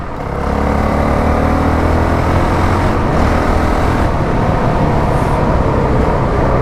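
A 2019 Honda CRF450L with its 450 engine drones loud and steady while being ridden, a continuous close engine roar with constant road and wind rumble and no break.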